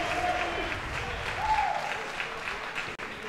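A crowd applauds and cheers continuously at an outdoor parkour competition, a steady wash of clapping for a competitor being introduced, with a host's voice talking over it.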